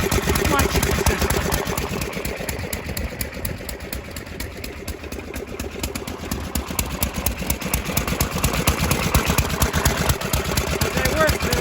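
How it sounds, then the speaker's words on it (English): A small stationary engine driving a pump jack through a homemade belt clutch, idling in a steady, moderately loud putter throughout with a continuous mechanical rhythm. "we're going to engage the pump jack with our absolutely redneck engineered ingenious clutch system."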